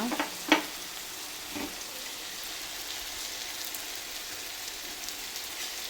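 An onion and tomato masala seasoned with salt and turmeric hisses steadily in a pan as it is stirred. A couple of sharp spoon clinks come early, then an even sizzle continues, with no voices.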